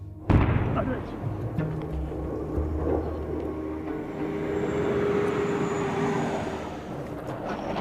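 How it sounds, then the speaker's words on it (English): A military jet passes overhead during a bombing raid, its roar sustained and loud over the whole stretch, with low rumbling blasts mixed in and distant voices beneath. "The jet has flown over several times and is dropping bombs."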